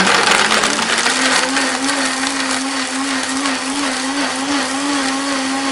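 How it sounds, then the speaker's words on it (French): Blender whirring through a coconut and cumin soup with garlic, a loud steady motor drone with a churning wash on top, close up and uninterrupted. "là ça mixe bien là"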